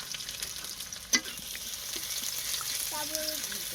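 Onions fry in hot oil for a fish curry, a dense steady sizzle with a sharp clink of a utensil and faint murmuring voices in the background.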